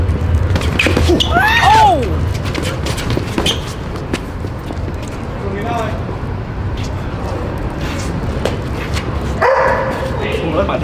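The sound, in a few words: dog barking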